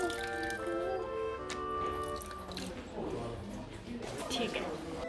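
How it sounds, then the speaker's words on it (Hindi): Coins and notes are washed in shrine well water at a Buddhist temple in Japan, giving soft dripping and squishy splashes under continuous voices and a busy crowd. "तो मैं भी पैसे धोऊंगी।"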